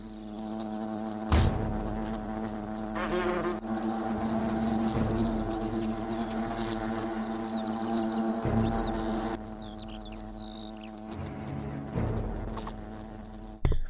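Wasps buzzing in the fantasy video game Fable The Lost Chapters, a droning insect hum that persists for the whole span with swells and sudden loud hits from game effects layered on top, no talk.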